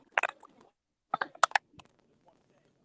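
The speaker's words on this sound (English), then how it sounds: "Someone's typing really fast. You can hear clicks." Quick bursts of clicking keystrokes from a computer keyboard being typed on fast, in short clusters with pauses between, fairly faint and close.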